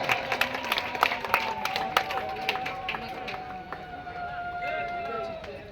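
An audience applauds at the opening welcome ceremony of a Danda Nacha festival pandal, with scattered, fairly loud claps and a steady high whine over a murmuring crowd that slowly thins out.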